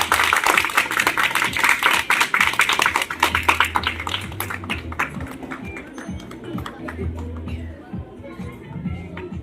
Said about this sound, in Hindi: और जोरदार तालियां बजने लगती हैं।